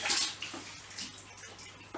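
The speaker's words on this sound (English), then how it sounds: "Couple of pumps of that, water should be pumping." Water is pumped into a bucket during fancy goldfish tank maintenance, gushing and splashing steadily in a bright rushing hiss that swells at the start and continues without pause.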